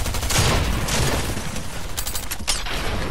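Close-range shotgun blasts in Fortnite: loud, dense bursts of gunfire with sharp repeated reports and mechanical clatter, filling the whole moment without voices.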